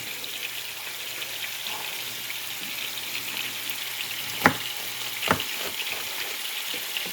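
Ground hamburger meat fries in a pan with a steady broadband sizzle, punctuated by two sharp clicks or clatters midway, likely a spatula against the pan; no talking.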